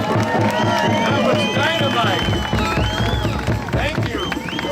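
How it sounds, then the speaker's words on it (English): A crowd at a Woodstock anniversary reunion event cheers, whoops and claps for a performer named Hannah, a lively babble of voices with scattered applause, while someone speaks briefly over it. "How about a round of applause for Hannah?"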